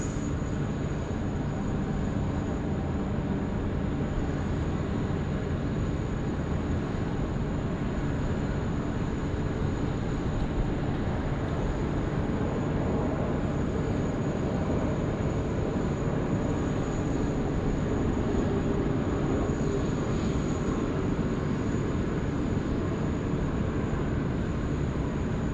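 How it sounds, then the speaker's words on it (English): AirAsia airliner on final approach to runway 16 right at Sydney Airport, heard as a continuous loud jet roar with a steady high whine, constant and unbroken throughout. "Air Asia now finals runway 16 right"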